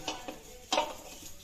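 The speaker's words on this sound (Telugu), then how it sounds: "జీలకర్ర కూడా వేయించుకున్నాము." Cumin seeds dry roasting in a pan: three short scraping stirs of a spatula over a quiet, faint background.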